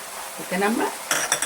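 Garlic from a new crop tipped into hot oil tempering for an eggplant, cucumber and tomato pickle, giving a brief soft sizzle with stirring, then a few sharp utensil clinks against the pan near the end.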